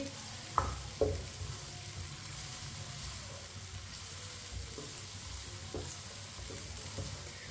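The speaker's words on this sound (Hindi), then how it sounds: "लहसुन और प्याज को हल्का सा ब्राउन कर लेंगे।" Garlic and onion frying in a pan until lightly browned, a steady soft sizzle with a few sharp clinks of a spoon against the pan early on, moderately quiet and continuous.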